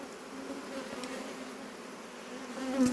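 Honeybees buzzing around an open hive during beekeeping, a soft continuous drone with a few louder passes near the end as individual bees fly close.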